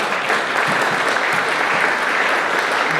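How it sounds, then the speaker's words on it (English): A county meeting audience claps steadily for a few seconds, a dense, even burst of applause filling the room without voices over it. "It's good, please clap."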